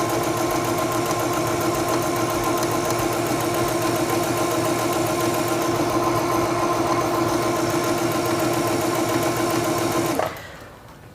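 Singer 7258 computerized sewing machine running a straight stitch, a steady close mechanical whir and rapid needle clatter held at an even pace for about ten seconds before the motor stops abruptly.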